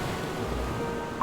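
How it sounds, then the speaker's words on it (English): Rain and rising ocean waves in a storm sound effect form a steady, dense roar of surf and rainfall with a low rumble, ending with a brief brighter chime-like tone. "Now it's raining, and the waves are rising."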